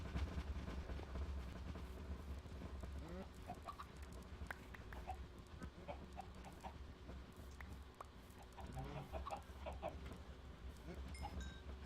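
Chickens cluck on and off in Minecraft, small scattered calls over a steady droning background that runs throughout.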